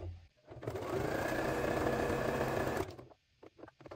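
A sewing machine runs in one close, continuous burst of rapid stitching lasting about two seconds, forward and then backstitching, followed by quiet clicks and handling sounds.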